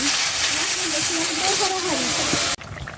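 Water poured into a pan of hot oil with frying turmeric and chili spices gives a loud, continuous hiss and bubbling that cuts off abruptly, leaving a quieter simmer.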